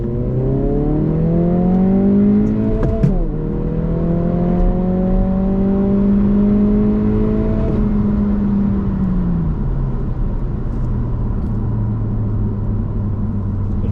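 A tuned 2022 Honda Civic Si with an 11th-gen turbo engine pulls hard in second gear, its rising engine drone climbing steadily, dipping briefly, then climbing again before easing off, loud and close throughout with no talking.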